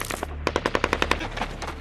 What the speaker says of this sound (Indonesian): Kemudian militan Aidid pun melemparkan tembakan